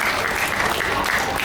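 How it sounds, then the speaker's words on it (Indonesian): Audience applause at a stand-up comedy open mic event, a short steady burst of many hands clapping, close and fairly loud with no talk. "boleh tepuk tangan dulu buat Nakerfest teman-teman."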